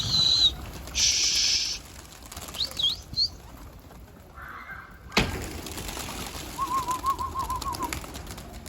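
Pigeons around a loft give several bursts of flapping wings and short calls, including a soft coo, fairly close against a quiet outdoor background.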